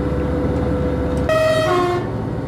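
A train horn on a rural French single-track line between Avallon and Autun sounds a loud, sustained whistle about a second long. It comes in sharply over steady rumbling rail noise, with no talk.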